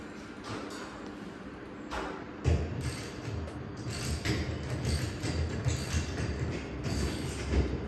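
Custom trolley hoist under test, with a rubber bumper at each end: a run of mechanical clicks, ratcheting and creaks over a steady low rumble, with sharper knocks at intervals, close by and moderately loud.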